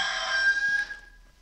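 A rooster gives one drawn-out crow, fairly close and clear, fading away after about a second.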